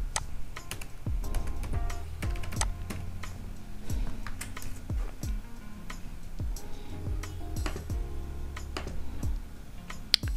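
Typing on a computer keyboard while making fruit flashcards in Canva, a steady run of close, crisp key clicks in uneven bursts with short pauses, heard alone without talk.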